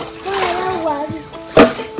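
A child splashing water, one sharp splash near the end over a background of light trickling, with a voice speaking beforehand.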